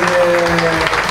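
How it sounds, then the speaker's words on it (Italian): Brief applause fills a hall at a sports presentation as the crowd claps for the staff in green shirts, with a steady hum and sustained tones running underneath. "io volevo un grosso applauso per tutti un po' i ragazzi con la maglia verde"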